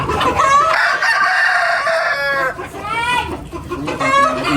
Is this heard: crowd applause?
no